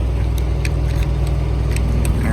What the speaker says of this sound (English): Sorry about the loud noise, the APU running